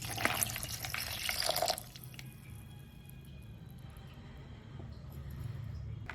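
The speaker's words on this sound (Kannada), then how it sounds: "ಇದಕ್ಕೆ ಇವಾಗ ನೀರು ಹಾಕೋಣ" Water splashes and trickles over onion rings cut into rings and ice cubes in a bowl, a loud burst of pouring lasting under two seconds, then fading to quiet dripping and faint rustle.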